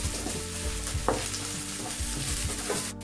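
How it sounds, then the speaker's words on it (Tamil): Crushed garlic and chilli sautéing and being stirred in a pan for a Thai basil chicken dish, a steady sizzle with scraping spoon strokes throughout, fairly close and alone without talk. "இடிச்சு வச்ச பூண்டும் மிளகாவும் போட்டுக்கலாங்க. லைட்டா வதக்கிக்கலாம்."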